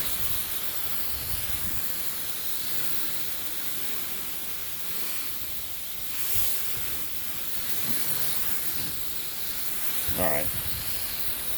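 Steady, loud hiss of a water spray rinsing a car coated in Turtle Wax Pro Hybrid Solutions wax, continuous for many seconds, with someone briefly speaking over it.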